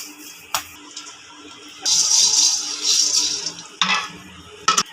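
Popcorn kernels popping in a covered pan on the stove, heard as scattered sharp pops and bursts of crackling over a low background hiss, with a brief dense flurry in the middle.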